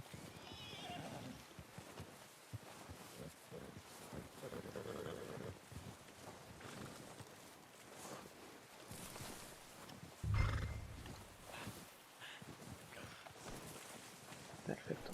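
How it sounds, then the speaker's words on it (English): A horse in the Red Dead Redemption 2 game trots closer with clip-clopping hooves and gives a loud, whinnying neigh midway, while a person talks over the game sounds. "Si le das a la flechita de arriba, tu caballo viene"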